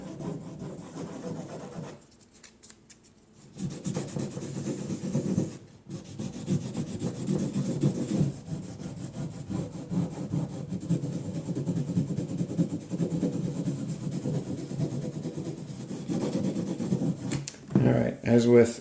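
A plastic Halloween blow mold is wet sanded with 2000 grit sandpaper to lift a heavy rust stain, giving close, continuous rhythmic scrubbing and rubbing that stops briefly twice before resuming.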